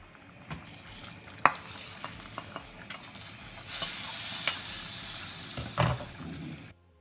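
Spices for tempering sambar crackle and sizzle in hot oil, with sharp pops and a steady frying hiss that swells midway, then cuts off abruptly.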